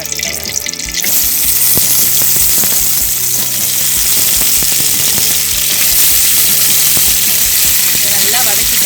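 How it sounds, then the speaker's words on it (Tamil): Brinjal (eggplant) pieces sizzle loudly in hot oil in a pan for a Tamil mutton kola urundai kuzhambu, with steady crackling and occasional stirring clatter throughout. "ஆயில் போட்டு நம்ம இந்த கத்திரிக்காயை நல்லா வதக்கிடலாம்"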